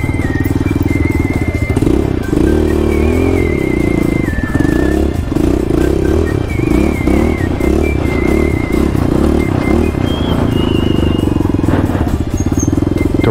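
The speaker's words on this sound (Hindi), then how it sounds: "नीलेश भाई गए हैं अभी फाल्कन पे टेस्ट राइड लेने के लिए।" Loud, steady motorcycle engine on an off-road test ride at an off-roading park, running continuously with shifting revs and a rough, rumbling tone throughout.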